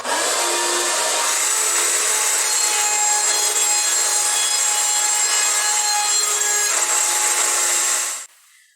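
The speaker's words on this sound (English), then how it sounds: "We'll turn on our good old trusty shop vac." A trusty shop vac runs during a test cut on a homemade router table, a loud, steady whining roar that holds evenly for about eight seconds and then cuts off abruptly.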